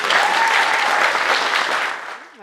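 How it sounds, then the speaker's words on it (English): An audience at a live spoken-word show applauds, a dense, loud burst of clapping that holds steady for about two seconds before tapering off abruptly. "We can still give her a round of applause"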